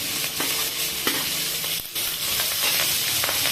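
Onions sizzle in hot oil for a chicken curry, a dense, continuous frying hiss close up, with a few stirring scrapes breaking through the steady crackle.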